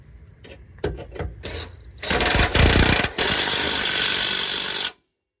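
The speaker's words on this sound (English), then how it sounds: "Get them good and tight with your drill." A power drill tightens valve body bolts on a 2006 Dodge Dakota 4.7L transmission, whirring in short bursts, then running loud and steady for about three seconds before stopping abruptly, with mechanical rattling throughout.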